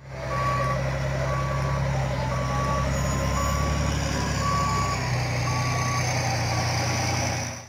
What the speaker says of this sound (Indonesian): Di sini ada mobil truk pasir.